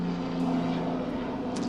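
A steady, droning helicopter engine passes overhead, continuous and moderately loud with no talking.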